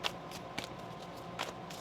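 Tarot cards riffle in a few brief, quiet shuffling bursts separated by pauses.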